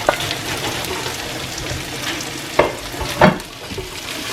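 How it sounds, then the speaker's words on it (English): Corned beef being stirred into cooked cabbage and vegetables in a hot pan, a soft ongoing sizzle broken by a few distinct spoon scrapes and clunks, close up with no voices. "mix it without scrambling the corned beef because you want some nice big chunky pieces"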